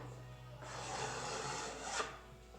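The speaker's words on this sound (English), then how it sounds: "I'm just going to take a card scraper" A card scraper is drawn across wood to remove burn marks on a Greene & Greene style hall table: one quiet, close rasping stroke lasting under two seconds, with a faint scraping swell near its end.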